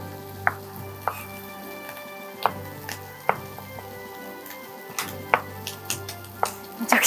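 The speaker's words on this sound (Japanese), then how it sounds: "バジルをみじん切りにします" Knife finely chopping basil on a board in a home kitchen, giving scattered sharp taps at uneven intervals over a steady low background hum, with no talking.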